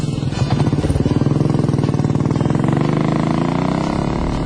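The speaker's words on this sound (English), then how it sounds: "the engine idles cleanly and has good bottom end pull" A Royal Enfield Bullet single-cylinder motorcycle engine of about 25 horsepower idles close by, a loud, even, rapid thumping beat that carries on steadily throughout.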